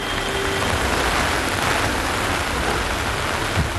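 Heavy May rain pours down on Mumbai in a dense, steady roar, filling the whole scene with continuous hiss and no gaps.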